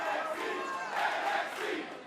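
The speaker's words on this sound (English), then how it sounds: "Listen to the crowd." A wrestling arena crowd at a women's title match roars with sustained, loud cheering and shouting throughout, a dense wall of many voices with no break.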